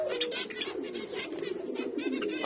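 Caged pet Java sparrows and finches chirp and twitter steadily at close range, with overlapping small calls throughout and no speech.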